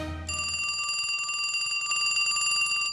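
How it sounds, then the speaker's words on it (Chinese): A cartoon telephone rings after a brief low start. The bright, trilling bell then sounds continuously and evenly, with nothing else heard. "有电话。"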